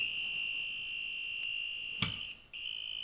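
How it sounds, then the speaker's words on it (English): A voltage tester gives off a steady high-pitched electronic tone, faint and continuous, with a brief click partway through and a short dip before the tone resumes. "Now it makes a different sound, a real beeping sound."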